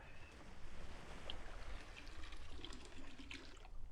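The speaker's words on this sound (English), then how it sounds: "I just heard bathwater. Like a faucet." Water sloshes and trickles softly like bathwater running from a faucet during a boat scene in a video game, a faint continuous splashing with small gurgles and no voices.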